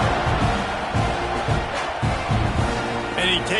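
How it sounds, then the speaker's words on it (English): A football stadium crowd roars and cheers in a dense, sustained wash, with a commentator's voice faintly under the noise. "You think this crowd's going to get loud when their defense comes on the field?"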